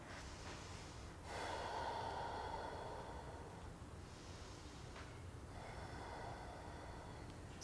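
Slow, audible breaths drawn in and let out through the nose while holding a yoga stretch for a beginner's splits routine, close and soft over steady background hiss, with two longer exhales; no talking.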